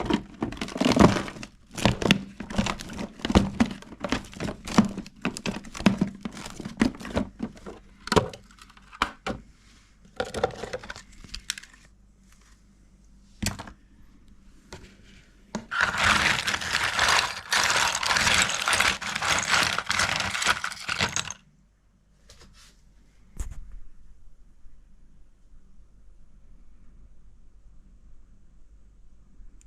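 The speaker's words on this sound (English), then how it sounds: "the sound of the ice and the satisfaction of being able to pop them all out at the same time" Ice cubes pop and crack out of an ice tray in a dense burst of sharp snaps and crunches, followed by a long rattling crinkle of ice, then a few isolated clicks fading into quiet.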